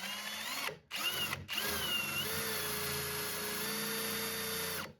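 A cordless drill with a hole saw whines close by, stopping twice briefly before settling into a long, steady grinding cut through thick hardened steel.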